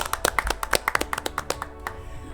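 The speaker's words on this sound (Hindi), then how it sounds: "ताली तो बजा दीजिए" A studio audience at an Independence Day quiz show claps for a few seconds, a dense flurry of sharp hand claps that thins out toward the end.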